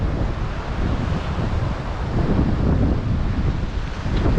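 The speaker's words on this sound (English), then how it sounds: "It's the ocean coming in" Ocean surf rolls in near a river mouth under heavy gusting wind, a continuous broadband roar with wind buffeting the microphone and no voices.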